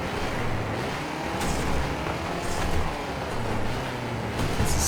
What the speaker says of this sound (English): You can hear some engine noises,